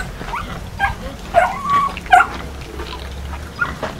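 A Labrador whimpers and yips in short, high, close bursts, with a few soft barks scattered through a few seconds.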